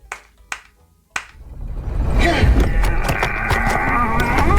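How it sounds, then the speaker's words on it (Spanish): A Minecraft character claps in-game, three sharp, separate clap sounds in the first second, followed by a loud, continuous rumbling game soundscape that swallows the rest. "me voy a aplaudir hasta que lleguemos hasta la parte de abajo"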